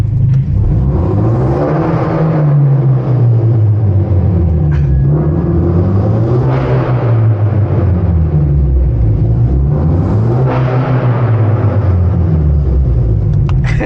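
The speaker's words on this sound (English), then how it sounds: "we're in the tunnel, might as well give it a rev." Inside a tunnel, a Hyundai Genesis Coupe with raw exhaust is revved several times, its loud, close engine note swelling and falling in repeated waves over a constant low rumble.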